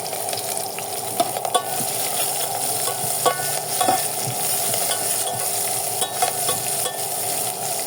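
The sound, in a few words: onion and green chili frying in pan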